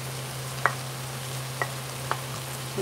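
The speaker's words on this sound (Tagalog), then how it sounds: "igisa muna natin" Tomatoes sauté in a hot pan with a steady low sizzle, broken by a few sharp clinks of a utensil against the pan, close and alone.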